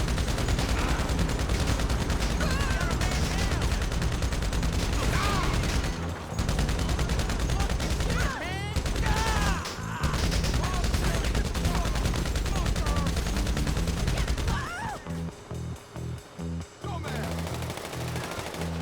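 Shotgun gunfire in Grand Theft Auto V during a fight with bikers: loud, nearly continuous shooting over many seconds, broken by brief gaps and a choppier stretch near the end.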